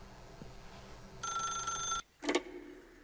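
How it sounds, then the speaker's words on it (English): A telephone rings in The Stanley Parable video game: a single bright electronic ring lasting under a second, followed by a short click or pickup sound, over quiet background. "pick up the phone"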